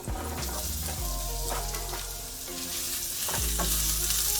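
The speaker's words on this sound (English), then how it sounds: "So I'm sauteing this a little bit before I add my cabbage" Scallion, carrots and red onions with seasonings sauté in a pan, a loud steady sizzle with faint background music and stirring knocks.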